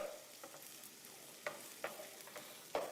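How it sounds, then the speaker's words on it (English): Food being stirred in a pan with jalapeno for a Mexican dish, a quiet scraping and light sizzle with a few soft spoon knocks spaced out over a few seconds. "Stir it around"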